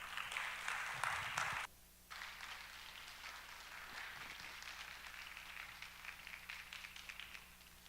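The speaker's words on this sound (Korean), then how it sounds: "우리 목사님 나오실 때 한번 박수로 환영하겠습니다" A church congregation welcoming a pastor to the pulpit with quiet, steady applause that briefly drops out and resumes, faint and distant throughout.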